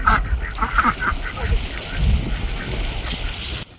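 Ducks and geese on a garden duck pond give loud honks and quacks in short bursts. Someone talks over them nearby against outdoor background noise.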